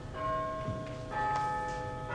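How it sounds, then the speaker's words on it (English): Neighbouring church bells chime the quarters, with two sustained, ringing bell tones in succession that hang with a long, resonant decay. "The chimes on a neighboring church struck the 4 quarters"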